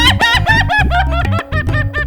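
A rooster crows in a drawn-out, lilting dangdut style, several loud wavering calls repeated back to back up close.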